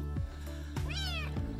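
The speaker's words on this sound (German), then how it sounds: "das ist die Katze" A white kitten about eleven weeks old gives a single clear, rising and falling meow, close and alone, in a household with dogs.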